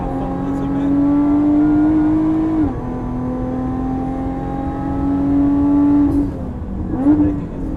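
A Lotus Evora 400 sports car on a Dubai race track holds a loud, steady engine drone from inside the cabin, with the pitch dipping sharply twice as gears shift under heavy braking before climbing again.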